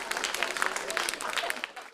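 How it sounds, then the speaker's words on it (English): Presentation audience members clapping for themselves, a continuous scattered patter of many hands at moderate level, with voices faintly mixed in. "Clap for yourself like you care about yourself."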